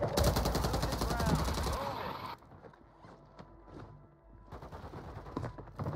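Gunfire in Call of Duty: Warzone (MW3): a loud, rapid automatic burst for about two seconds, then quieter scattered shots and game effects, with players talking over the action.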